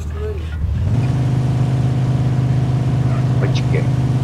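A car engine in the video game Mafia 2 starts up and holds a steady, loud, droning rev, close and continuous, while players talk over voice chat.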